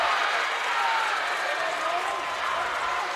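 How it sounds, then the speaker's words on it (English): A volleyball crowd in a high school gym roars steadily after a kill in a Red Oak versus Clarinda match. Broad cheering and clapping hold loud and constant for the whole span, with a commentator's voice faintly underneath. "Hopefully you can hear a little bit of the crowd there"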